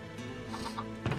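Chickens clucking in the video game Minecraft, a short burst of soft game clucks over a steady background bed, with a louder cluck at the end.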